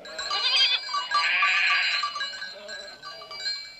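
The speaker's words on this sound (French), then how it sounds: "Si je ne fais pas erreur, voilà Pie, ta chèvre" A goat on an alpine pasture bleats loudly and up close, two or three wavering calls in quick succession, with no talking over them.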